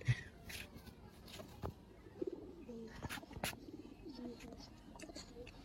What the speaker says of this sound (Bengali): ছটফটা আছে কবুতর